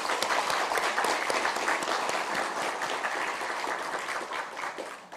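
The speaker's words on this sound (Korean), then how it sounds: "우리 크게 박수 한번 치시죠." Audience applause at a national balanced development day ceremony in Korea, a dense, steady wash of many hands clapping that fills the whole stretch and tapers slightly toward the end.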